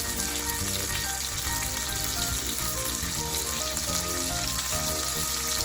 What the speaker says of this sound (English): We'll begin by cooking the bacon and sausage in a medium frying pan over medium heat.